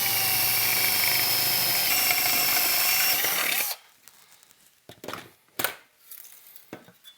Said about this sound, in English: I'm going to go ahead and drill all these out